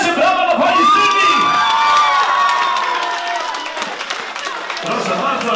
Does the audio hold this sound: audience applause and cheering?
yes